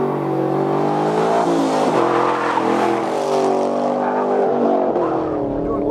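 A 2013 Chevrolet Camaro SS 1LE with a 420-horsepower V8 roars at speed on a racetrack, its loud engine note rising and falling through shifts and revs, close and continuous, with faint tire noise.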